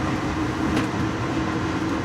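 An Amtrak excursion train hauled by an AEM-7 electric locomotive rolls along the rails with a steady, continuous rumble and rush, heard from inside a passenger car with no talking.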